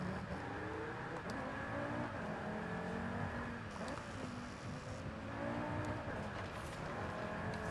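Audi TT RS engine in the Forza Horizon 5 racing game, a steady droning motor with rising and falling harmonic sweeps as revs change, moderately loud and continuous, with no speech.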